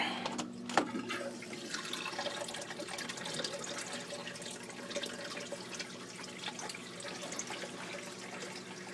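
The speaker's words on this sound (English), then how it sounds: "we're gonna plug the pump back in" Water rushes steadily through a reef aquarium's L2 algae scrubber after the pump is plugged back in, a continuous splashing flow with a brief sharp knock near the start.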